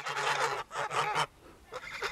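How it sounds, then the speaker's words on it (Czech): Geese honk close by in a few loud, harsh bursts separated by short pauses, one after another. "Hus je nehloupý."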